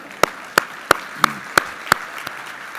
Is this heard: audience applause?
yes